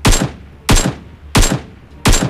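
Four evenly spaced gunshots from a BGMI battle royale match, each a sharp loud crack with a short decaying tail, fired about two-thirds of a second apart with no talking.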